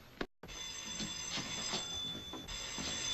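An old-fashioned telephone bell rings steadily in a 1941 murder mystery scene, its bright, sustained ringing filling the room after a brief gap and continuing without talk.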